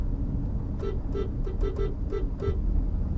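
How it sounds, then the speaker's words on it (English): A 2018 Honda CR-V horn gives six short, fairly high toots in a quick irregular series over steady road and engine noise from inside the moving car. "Let's see how Honda's horn on the CRV sounds."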